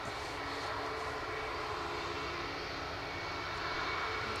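An Air France airliner departs Edinburgh Airport, heard as a steady, moderately distant engine rumble that holds for several seconds with no speech.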